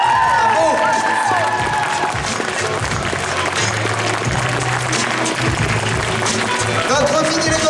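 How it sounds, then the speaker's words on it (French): A crowd at the Geek Legends costume contest awards in Lons-le-Saunier gives the winner, a child dressed as a mini Legolas, sustained loud applause with cheers and shouts, and voices call out over the clapping. "Faites un tonnerre d'applaudissements pour le mini Legolas."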